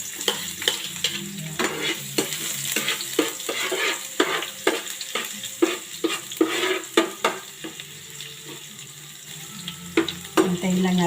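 Garlic frying in a pan for a Bicolano sarciadong isda dish, with a steady close sizzle broken by repeated clinks and scrapes of a utensil stirring against the pan.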